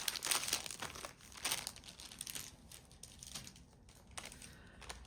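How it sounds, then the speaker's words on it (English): Close crinkling and rustling of plastic packaging as a Hobonichi 2026 A6 planner is unboxed, coming in irregular bursts of crackle with brief quieter gaps and no talking. "Apologies for the crinkling."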